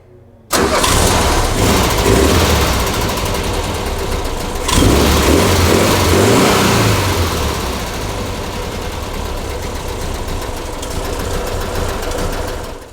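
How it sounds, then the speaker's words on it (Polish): An old Fiat engine cranks and catches, then idles roughly with a rising rev around the middle, loud and close, steady rumble throughout with no talking. "A jak takie silniki brzmiały? No to posłuchajcie."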